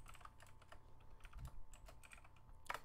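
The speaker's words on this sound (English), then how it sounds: "I cannot type to save my life today." Someone types on a computer keyboard during a CentOS 7 session. Quiet, irregular key clicks run throughout, with a slightly louder tap near the end, all faint and close with no talking.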